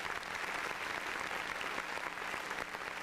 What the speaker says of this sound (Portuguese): Salva de palmas para a Larissa.